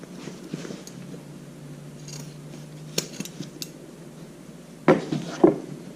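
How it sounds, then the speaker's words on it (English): Scissors trimming fabric beside a stitch line on a sewn shoulder bag, a few crisp close snips and slicing rasps over a quiet low hum, with a louder burst of cuts near the end. "you can trim off to the right of your stitch line"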